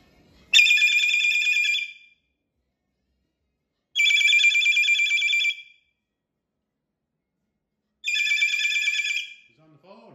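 A bird mimics a telephone ringtone in three loud, bright trilling bursts, each nearly two seconds long and spaced evenly apart with silence between, close to the listener.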